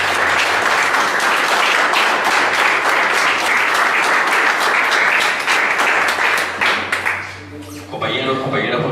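Loud, dense audience applause at an evening talk on political prison literature, steady for about seven seconds before tapering off, with a low hum underneath and a few voices emerging at the end.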